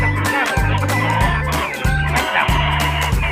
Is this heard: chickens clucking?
yes